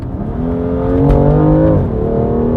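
BMW F87 M2 Competition, 405 horsepower with full bolt-ons, revs hard while accelerating, a loud, close engine note climbing in pitch, then dipping briefly on a shift before pulling again.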